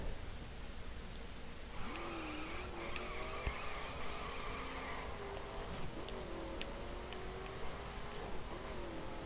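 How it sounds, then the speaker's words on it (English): A Corvette, a Z06 or Stingray, drives in The Crew racing video game. Its engine drones steadily and rises and falls in pitch, with faint tyre noise over a constant background hum. "I'll be driving the Corvette Z06, I think it is"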